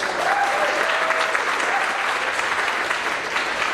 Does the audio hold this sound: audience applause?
yes